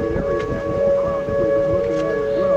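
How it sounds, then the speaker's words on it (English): Tornado warning sirens wail steadily during the June 2010 Peoria and Washington, Illinois tornadoes, a sustained tone beneath wind noise and nearby voices. "Here's the sirens."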